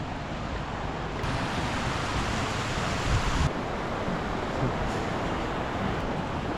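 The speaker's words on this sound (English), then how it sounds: "It is a beautiful stream here." A mountain river fed by waterfalls near Sapa during the monsoon season rushes steadily, a broad close wash of flowing water with no pauses, mixed with some wind noise.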